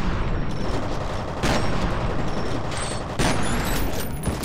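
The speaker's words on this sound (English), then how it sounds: "Fucking rockets shooting off everywhere." Rockets and gunfire in the shooter game F.E.A.R. form a dense, continuous battle din, with loud bursts near 1.5 and 3.2 seconds over a steady roar of shots and explosions, and no talking.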